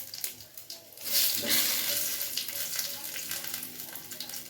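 Cumin, dried chilli bits and two bay leaves hit hot oil and burst into a loud, close sizzle that swells and then hisses steadily as it fades slightly.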